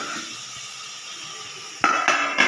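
A spoon is lifted from a pan of jackfruit masala bhaji, then a lid is set on the cooking pan with two or three sharp metallic clanks near the end, following a steady low background hiss.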